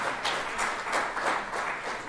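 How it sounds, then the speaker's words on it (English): Audience applause at a school sixth form prize giving, a steady even wash of many hands clapping for the whole short stretch, with no talk over it. "Let's uh, give Amy and Cleo a round of applause."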